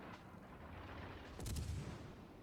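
Warship turrets fire in World of Warships as a cruiser's rear and fore guns let off a salvo: one deep boom rolls out midway through a quiet, low rumbling background.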